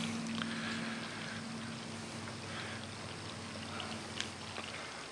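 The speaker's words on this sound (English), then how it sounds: "let the water start to drain out" Water drains steadily out of a charcoal canister from an MGB, a continuous soft trickling and hiss at low level with no voices.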